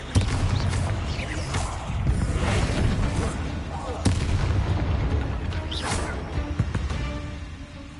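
Fiery blasting-spell explosions from Hogwarts Legacy boom and crash in quick succession with whooshing bursts and thuds, loud and close, with brief voice moments in between.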